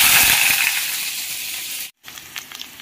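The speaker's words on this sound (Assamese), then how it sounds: "এইখিনি পিঁয়াজ দি দিওঁ" Chopped onions drop into a hot pan of oil and hiss loudly as a bright, steady frying sizzle that fades over two seconds and cuts off before some faint clinks.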